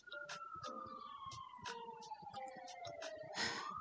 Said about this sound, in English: I hear sirens, so I'm kind of distracted for a second.